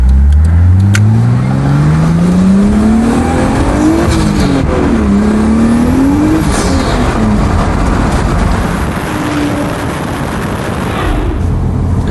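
A tuned turbocharged car making about 400 horsepower to the wheels accelerates hard through the gears, the engine note climbing, dropping at shifts and climbing again, loud and close and steady throughout.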